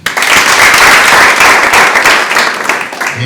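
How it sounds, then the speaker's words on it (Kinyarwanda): Loud, sustained applause from a gathered crowd, steady clapping filling the whole stretch with no pauses. "wamera amashyi cyane"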